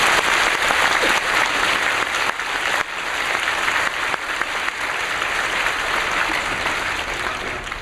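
Steady, dense applause from a church congregation welcoming visiting guests, loud and sustained throughout with no pause.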